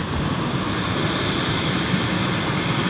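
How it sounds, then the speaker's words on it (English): A jet airliner on a Heathrow approach passes overhead near London City Airport, a steady, loud broadband engine roar and rushing hiss that holds evenly throughout with no talk. "Lots of Heathrow flyovers now."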